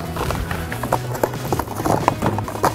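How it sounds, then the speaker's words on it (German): A horse gallops with quick, rhythmic hoofbeats thudding close by, a busy run of clip-clop strikes that carries through the whole moment. "Da ist doch schon das Old Spice Pferd."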